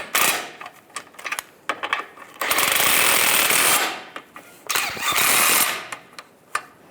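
A ratchet snugs up the strut assembly bolts on a 1998-2010 Volkswagen Beetle. Close, loud bursts of rapid clicking alternate with short pauses, including a couple of longer sustained runs.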